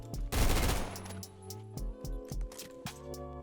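A new gun firing in the Roblox shooter Phantom Forces, a loud dense burst of rapid shots followed by several shorter, spaced bursts, close and clear.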